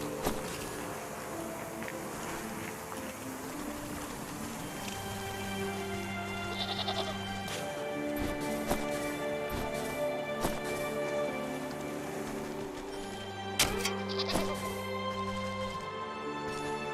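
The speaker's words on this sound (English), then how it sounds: "Let's hear what the goat has to say." A goat bleats repeatedly in the video game WYtCHWOOD, wavering cries layered over sustained tonal music and occasional soft steps, fairly close and with no speech.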